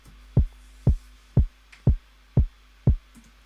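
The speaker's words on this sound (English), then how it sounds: "just a 4 to the floor kick" Six evenly spaced kick drum thumps beat a steady four-on-the-floor pulse in a produced beat, deep and punchy with nothing else over them.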